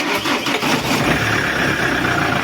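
A Chevrolet Captiva 2.0 diesel engine cranks and catches, running loud and close right after an oil and filter change.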